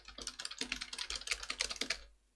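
Quick, rhythmic typing of code on a computer keyboard in Visual Basic, a close run of crisp key clicks lasting about two seconds before stopping, with no speech.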